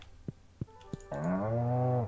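Cow mooing in the Stardew Valley farming video game, a long sustained low moo after three short soft clicks, close and prominent with no speech.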